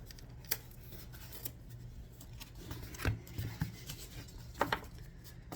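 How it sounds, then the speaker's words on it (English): Quiet snips of scissors cutting pond bog filter material, a few irregular crisp cuts over a soft background hum. "We're going to cut along this bottom edge."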